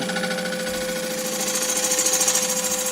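Wood lathe spinning an eccentric, colourful woodturning piece as a bevel-rubbing gouge shapes it, giving a steady, loud whirring hum with a faint rhythmic chatter that swells slightly toward the end.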